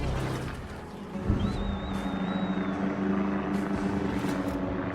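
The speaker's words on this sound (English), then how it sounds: "Spotter plane goes up." A spotter plane launches from a warship in a naval combat game, a droning propeller engine over steady ship rumble, with a sharp thump near the start and a rising whine, no talk.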